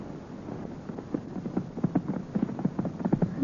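Horses gallop in a radio drama, their hooves beating a quick, uneven clip-clop of soft thuds that grows gradually louder over a light windy hiss, with no voices.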